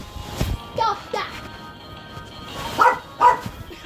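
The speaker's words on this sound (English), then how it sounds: "So you guys get to hear her bark." A pet dog barking indoors in short, separate woofs: two or three near, fairly loud barks spread across a few seconds, with a voice and faint household noise in the background.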